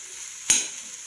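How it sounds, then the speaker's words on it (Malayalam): Hot mustard-seed tempering is tipped into a curry, giving one sudden loud sizzling burst that quickly fades to a soft crackle, with no talking. "കടുക് വറുത്ത് ഇതിലേക്കിടുക, മിക്സ് ചെയ്യാം"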